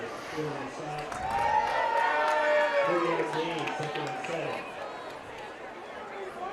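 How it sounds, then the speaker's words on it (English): A crowd at a high school football game swells into cheering and chatter, rising to a broad roar midway before easing back, with voices talking over it. "I didn't hear what they were cheering about."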